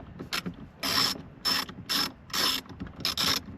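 A ratchet wrench loosening 7mm bolts inside a Camaro during a start button swap, heard as about six short bursts of rapid, close metallic clicking separated by brief pauses.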